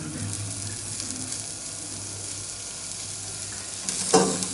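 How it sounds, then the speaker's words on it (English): Onions and garlic sizzle in olive oil in a pot while being stirred, a steady frying hiss with a brief louder scrape of stirring near the end. "stir in the onions and garlic. So let's get them going."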